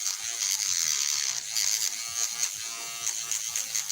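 An electric nail file buzzes steadily during a bedtime nail care routine, a close, continuous high whine with slight wavering pitch and small grinding pulses, heard alone with no talking.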